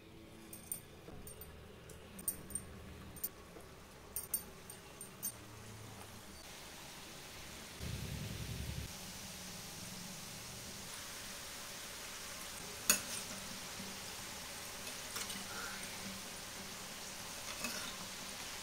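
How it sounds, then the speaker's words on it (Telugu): Badusha sweets deep-frying in oil: a soft, steady sizzle and bubbling hiss throughout, faint and close, with occasional small clicks and knocks at the start. "బాదుషాలు అయితే ఆయిల్లో బాగా ఫ్రై అయిపోయాయి."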